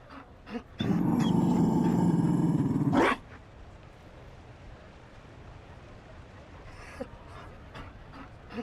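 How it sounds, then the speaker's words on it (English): A Mabari war dog from Dragon Age: Inquisition lets out a loud, close growling pant lasting about two seconds, then only quiet ambience with faint brief sounds follows. "You found a dog?"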